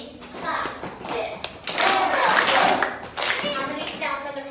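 Children in an elementary music class clap a beat together, groups of hand claps in short bursts with pauses between them, close by, with a few voices talking.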